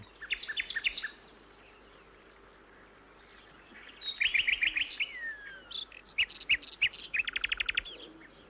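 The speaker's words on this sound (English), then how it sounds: "It's the strong and varied musical song of the nightingale." A nightingale sings in dense thickets, delivering bursts of varied, rich whistles, trills and rapid repeated notes with short pauses between phrases, close and clear over a quiet background.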